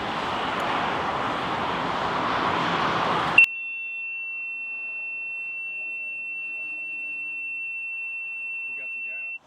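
An ignition warning tone sounds from a hotwired boat with no key, bought at auction: a single steady, high electronic beep sustains for several seconds after a burst of loud rushing noise, with faint voices near the end.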